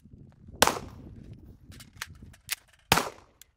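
Four sharp, loud pistol shots from a B&T TP9 crack at irregular intervals, each with a brief echoing tail, alone against a faint outdoor background.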